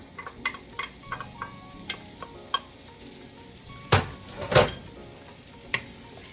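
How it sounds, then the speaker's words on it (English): A hot pan readied for sautéing onions gives a soft background sizzle, broken by scattered light clinks and taps of a utensil against the pan and two louder scraping bursts near the end. "Hear that sizzle? That means it's ready for your onions."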